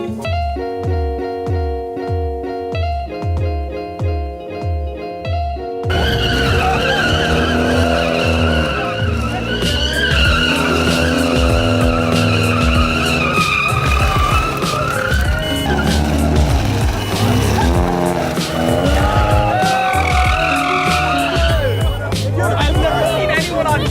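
Tires squeal loudly and continuously as cars do burnouts at a car meet, with engines revving and a crowd chattering in the background.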